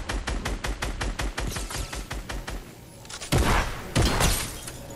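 Gunshots in Fortnite ring out as a rapid, evenly spaced burst of loud, close cracks, followed after a short pause by two heavier, booming blasts.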